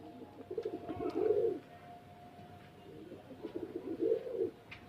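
Pigeons coo in a domestic loft, two distinct low rolling coo phrases close by with a quieter gap between them, over faint background hum.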